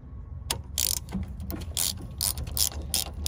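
A Tribus ratcheting line wrench clicks while breaking a fitting loose, giving a series of sharp, close metallic ratchet clicks in an uneven rhythm, with no talking.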